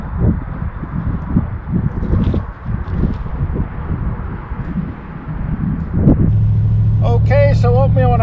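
Gusty wind buffets the microphone among Joshua trees in the Southern California desert, rising and falling in rough bursts, with a person talking over it and a dog nearby.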